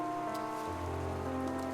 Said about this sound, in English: The rain has slackened off